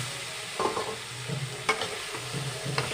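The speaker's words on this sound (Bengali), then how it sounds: "ভালোভাবে কষে নেব কাঁচা কলা আলু দিয়ে দিলাম" Raw banana and potato pieces are sautéed with spices in a hot pan, giving a steady sizzle under several distinct spatula scrapes and stirs, close and clear, with no talking.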